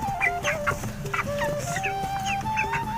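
Chickens clucking at feeding time on a rural homestead, a busy overlapping chorus of close, loud clucks and squawks with a faint dog-like bark mixed in.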